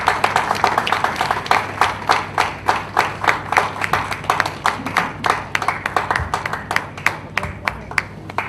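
Sparse, rhythmic hand clapping at a university research conference as a professor is welcomed to the podium, steady individual claps repeating over several seconds.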